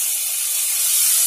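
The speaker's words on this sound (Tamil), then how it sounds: "கத்திரிக்காய் முருங்கைக்காய் எல்லாத்தையும் சேர்த்துடலாம் இப்போ இது கொஞ்ச நேரம் வதங்கட்டும்" Brinjal and drumstick pieces sautéing in a pan for sambar rice, giving a steady, bright sizzling hiss that stays even and loud throughout, with no voices.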